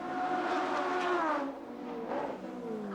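A Formula Atlantic race car from a 1990 race passes by, its engine note loud and high, then falling in pitch as it moves away. A second rise follows as the car gets back on the power.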